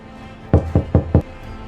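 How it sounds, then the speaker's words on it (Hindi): Knocking on a wooden door in an indoor home scene from a Hindi short film: four firm, evenly spaced knocks, close and loud, with no talk over them. "कोई खटखटा रहा है, मैं देख कर आता हूँ।"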